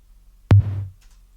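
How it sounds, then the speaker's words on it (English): One solo snare drum hit with a low tonal body and a brief gated-sounding reverb tail, sharp and close, then silence. "snare by itself"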